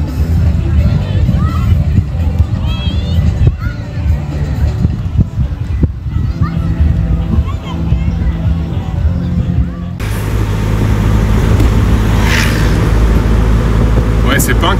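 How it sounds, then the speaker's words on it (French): A car passing along a busy street in Guinea, its engine and road noise rising into a broad wash near the end, amid crowd chatter and nearby voices. "c'est pas un camion, c'est une voiture"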